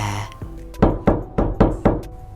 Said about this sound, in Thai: เสียงเคาะประตูที่ช้าเป็นจังหวะเรียบๆ